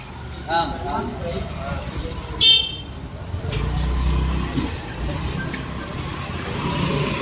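An auto rickshaw rolls through a narrow residential lane and gives a short horn toot, its engine rumbling nearby amid the general street noise while people talk throughout.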